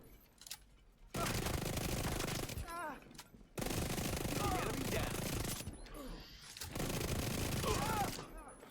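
Gunfire in The Division 2 video game erupts in long sustained automatic bursts separated by short gaps, loud and dense, with someone talking over parts of it.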